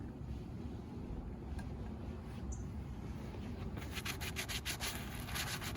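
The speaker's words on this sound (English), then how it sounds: "you have to work the polish into the leather" Shoe polish being worked into leather shoes by hand, a soft steady rubbing and brushing texture that turns into quicker, rhythmic strokes toward the end, close by with no talking.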